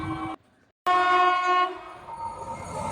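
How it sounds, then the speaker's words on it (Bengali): An express train passes through a station close by while its horn blasts loudly, cuts out briefly, then sounds again with a long sustained blare that fades into ongoing rail noise. "এক্সপ্রেস ট্রেনটি এখন যাচ্ছে নৈহাটির দিকে"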